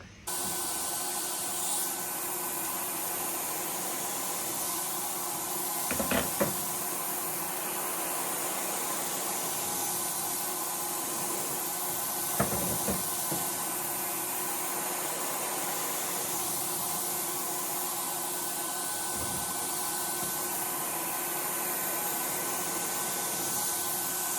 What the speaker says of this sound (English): I'm just gonna get started spraying